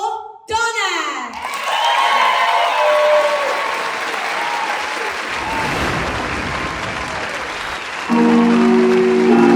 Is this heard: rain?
no